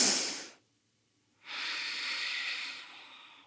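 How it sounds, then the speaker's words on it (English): A deep breath taken while holding a yoga splits pose: a breathy inhale fades out, a second of silence follows, then a long, steady exhale hisses out close and clear, with no talking. "Let's go for one more breath."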